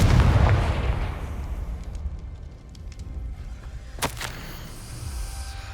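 Confringo fire spell explosion in the Hogwarts Legacy video game: a loud booming blast that rumbles and fades over a couple of seconds, followed by a sharp crack and lingering low game ambience.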